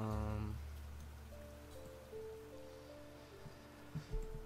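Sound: rain falling in the video game Niche

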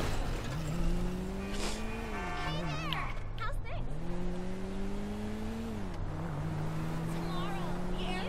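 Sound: car driving, from video game GTA V

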